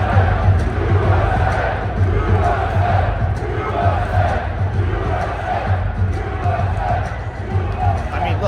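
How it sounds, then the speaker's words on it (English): A loud hockey arena crowd roars throughout, a dense sustained wash of cheering and shouting at a game, with rhythmic chanting swells and a voice talking over it. "especially because of the crowd. Listen to this."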